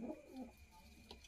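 A Jhamre Kalsira pigeon gives a short, soft coo, a brief low murmur heard close and quiet.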